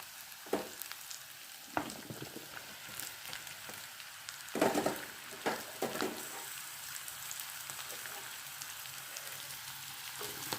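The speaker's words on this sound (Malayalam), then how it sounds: "ഇതെല്ലാം കൂടെ ഒന്ന് ഇളക്കി യോജിപ്പിക്കാം" Chopped vegetables for a Kerala-style curry are stirred in a hot frying pan, giving a steady sizzle with irregular scraping, clattering strokes spread across the clip and no talking.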